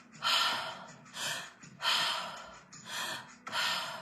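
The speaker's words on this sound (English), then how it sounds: "Breathing in through the mouth" Mouth breathing during a breath work session: a repeated cycle of sharp, forceful gasping inhalations and airy exhalations, about five rounds in an even rhythm, close and intimate with no talking.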